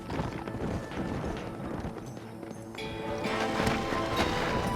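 Several horses gallop in the video game Red Dead Redemption during a chase through Blackwater. Hooves pound under a thick mix of game music and effects, growing a little louder toward the end.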